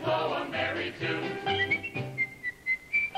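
Someone whistling a merry tune on a 1950s television variety show, a bright melodic line over light musical accompaniment, with short lilting notes toward the end, close and clear.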